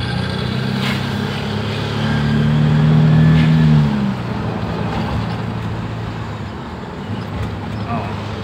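A Daihatsu Xenia 1.0 hums through a low engine drone while accelerating on a test drive, swelling louder midway with a steady whine before easing back under cabin road noise.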